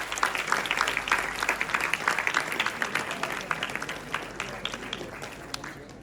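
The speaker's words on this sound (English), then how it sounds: "A thunderous round of applause for Mr. Abhishek Daga." An audience at a founders' panel session applauds Abhishek Daga, with brisk, dense clapping that builds quickly and then gradually tapers off toward the end.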